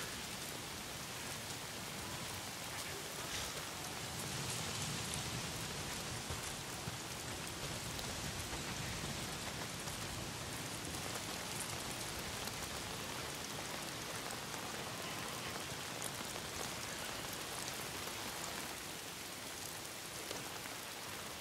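Steady rain pours down in the open-world game Days Gone, a dense, even hiss of heavy downpour lasting throughout with no voices and no breaks.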